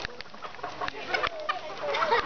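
Chickens cluck and murmur softly on a chicken farm, a busy mix of short calls and trills at moderate distance with some faint background voices.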